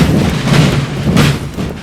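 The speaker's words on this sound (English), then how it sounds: "We've got artillery as well." Artillery booms during a Napoleon: Total War battle in which Swedish forces face a Russian invasion, several deep cannon thumps rolling out over a loud, continuous battlefield rumble.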